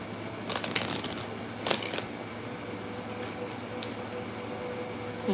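Tarot cards being shuffled by hand during a reading, a few quick riffling bursts near the start, then quieter handling against a steady background hiss.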